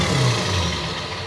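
A Ford F-250 Millennium Edition pickup on its stock exhaust idles with a low, steady, fairly quiet rumble, close by and with no other sound over it.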